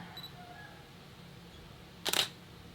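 A single SLR camera shutter fires once at ISO 800 in manual mode, a short crisp mechanical snap standing alone near the end in a quiet room.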